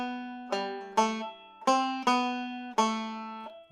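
The last bar of the first part of an Irish tune plays on a melodic instrument, leading into a second part in G: about six clear, ringing notes in a quick phrase that rises and tails off, alone without talk.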